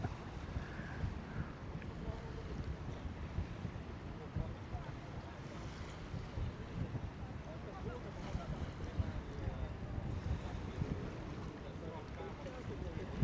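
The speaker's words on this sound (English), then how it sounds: "This wind picking up." Wind gusting along the Coney Island waterfront at sunset, a steady broadband rush with rumbling microphone buffeting that carries on without a break, surf and sea noise mixed faintly beneath.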